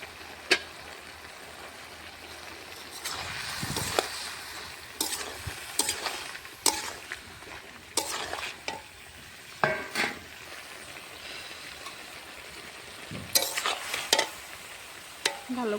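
Potato curry stirred in a pan with repeated scraping strokes of a spoon against the metal, spaced irregularly over a soft background sizzle.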